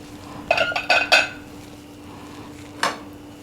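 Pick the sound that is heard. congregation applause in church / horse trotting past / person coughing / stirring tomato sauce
stirring tomato sauce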